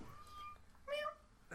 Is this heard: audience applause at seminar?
no